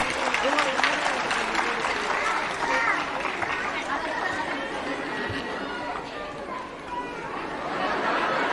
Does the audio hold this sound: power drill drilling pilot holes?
no